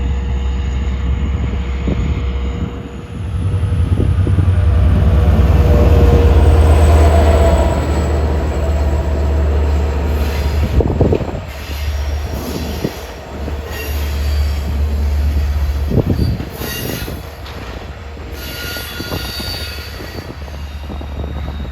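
A diesel train with a high horsepower-to-weight consist rumbles steadily into Southampton from the west, its deep engine drone loud and close, with wheel squeals and clanks rising over the rumble as it passes.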